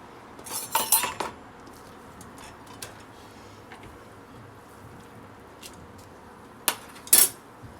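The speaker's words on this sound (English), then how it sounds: "So I want to put my noodles in here and cook those." Noodles dropped into a kitchen pot give a few bright clinks and clatters of glass and metal, one cluster early and another near the end, with quiet stretches in between.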